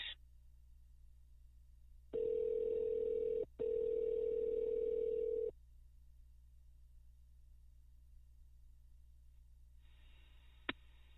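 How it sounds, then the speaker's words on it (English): Placing a telephone call: a tone sounds in two long bursts separated by a short gap. Then near-silence follows before another faint tone and a sharp click. "So we're gonna call Tom real quick and get Tom on the phone with us"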